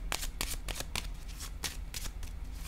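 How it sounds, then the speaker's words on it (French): Tarot cards are handled and laid down, giving a close, quick run of papery flicks and soft slaps in uneven bursts. "Je vais déposer une carte ici."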